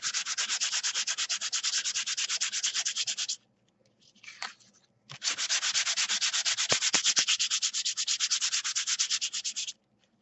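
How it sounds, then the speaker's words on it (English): A sanding block is rubbed quickly back and forth on a paper tag, making a loud, close, rapid scratchy buzz in two long runs separated by a brief pause with small handling sounds. "Sanding block."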